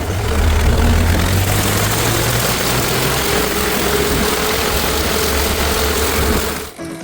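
Belarus tractor engine idling steadily, a continuous loud mechanical drone with a low throbbing hum that holds for several seconds before cutting off abruptly at the end, with no talking.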